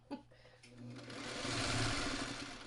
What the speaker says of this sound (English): you sew them a little bit at a time